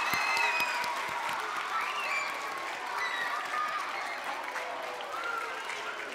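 An audience at the 92nd Street Y applauds after Shantell Martin's performance, a full round of clapping with some cheering and voices mixed in, slowly tapering in intensity.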